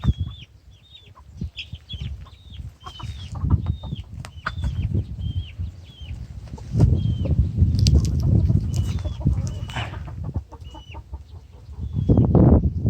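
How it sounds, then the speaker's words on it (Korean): Silkie chicks chirp and cluck close by in short, repeated high peeping calls, with soft rustling and wing-flapping noises under them and louder bursts of scuffling toward the middle and end. "실키 병아리라고 알고 있는데."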